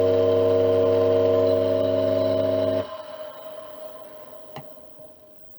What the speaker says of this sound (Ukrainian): Двигун з іншої пральної машини